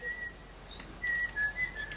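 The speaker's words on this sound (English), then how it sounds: "Listen to that kid whistle." A child whistles in short, clear, tonal bursts played back on an old wire recorder, quiet and thin with a few pauses between phrases, no talking.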